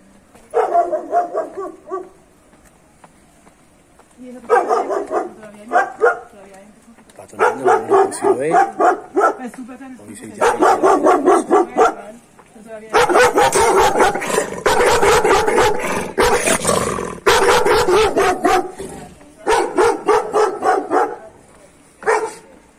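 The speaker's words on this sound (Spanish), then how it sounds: "Por ahí no se van a acercar mucho a la puerta porque hay unos perros muy bravos." Fierce guard dogs bark repeatedly in bursts near a house door, loud and close, with fast overlapping barks building into a sustained frenzy in the middle and voices faintly mixed in.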